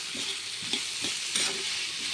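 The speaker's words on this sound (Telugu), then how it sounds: "మొత్తం ఇవన్నీ కూడా ఒక్కసారి బాగా కలుపుకోవాలండి మనం" A spoon scrapes and stirs ash gourd pieces with crushed almonds and turmeric in a pan, in several soft strokes over a faint, steady sizzle, with no talking.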